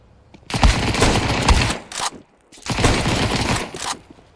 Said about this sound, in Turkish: Kanka MP9 çok eğlenceli. Koşa koşa sıkıyorum.